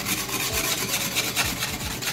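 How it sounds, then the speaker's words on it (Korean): A nail buffer rubs along the cut edges of a glass pane for a small aquarium, a steady rasping scrub in repeated back-and-forth strokes, close and fairly loud, with no voices. "저는 이 네일 버퍼로 각 면을 좀 다듬어 줄 거예요"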